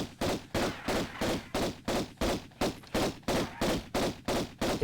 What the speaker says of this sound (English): Stop shooting me, Pierre.